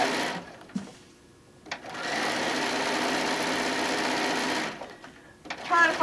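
A sewing machine runs in one long, steady mechanical whir while stitching a quilt-as-you-go mat, close and fairly loud, with short starts and stops at either end and a few quiet noises in between.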